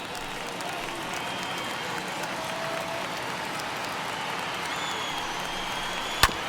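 A big baseball stadium crowd in MLB The Show, over 39,000 fans on their feet, producing a steady wash of cheering and applause, with a single sharp crack near the end.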